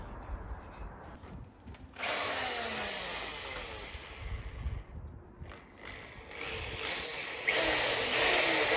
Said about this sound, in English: my next step is going to be to drill these old dowels out